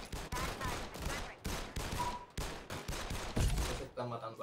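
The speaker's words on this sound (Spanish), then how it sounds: "Warning, incoming bombardment." Gunfire from an incoming bombardment in the video game Omega Legends: a run of sharp, close reports and heavy rattling shots, loud and fairly steady for a few seconds before the sound cuts out.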